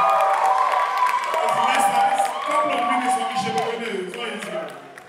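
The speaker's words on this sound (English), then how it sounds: "A round of applause" An audience claps and cheers loudly at a competition show, with whoops and shouts over the applause, fading slightly toward the end.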